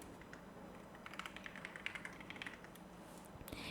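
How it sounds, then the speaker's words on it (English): Faint, quick clicks of typing on a computer keyboard patter in an uneven run against a quiet background hiss. "and type in loading"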